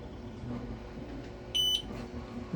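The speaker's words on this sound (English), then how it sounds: "Beep means we're ready to go." A laser engraver's single short, high-pitched electronic ready beep sounds over a faint, steady low hum.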